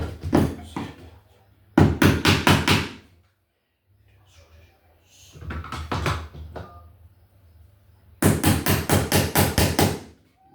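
Hammer taps on an old-work metal electrical box being set into a wall come in quick bursts of about five or six sharp strikes each, separated by quiet pauses, loud and close.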